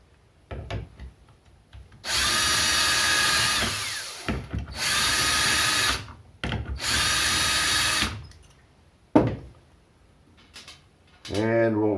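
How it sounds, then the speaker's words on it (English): A power drill pre-drills wood in three sustained whirring bursts separated by short pauses, while building a folding sawhorse, with tool handling clatter and a brief voice at the end. "And again, we'll pre-drill."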